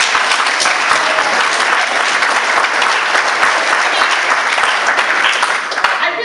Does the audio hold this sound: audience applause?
yes